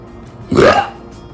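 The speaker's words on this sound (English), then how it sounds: "burping is normal around here" A single loud, close burp lasting about half a second, rising out of a quiet room.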